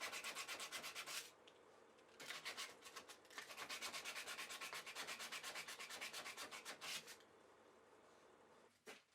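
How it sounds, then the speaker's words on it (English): Sandpaper rubs along the edges of a wooden Japanese-style toolbox in rapid, rhythmic back-and-forth strokes, close and steady, in two main runs with a brief pause between. "I'm just trimming up and neatening the edges with a chisel and then some sandpaper."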